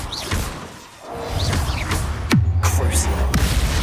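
Bombarda and Expelliarmus spells fire in Hogwarts Legacy, giving quick whooshing sweeps, a sharp descending swish and dull thumping impacts over a busy, rumbling combat background.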